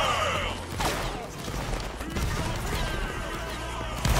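Musket volleys in the Napoleonic Wars video game, a continuous rolling fusillade of overlapping shots with sharp cracks standing out, dense battlefield noise throughout.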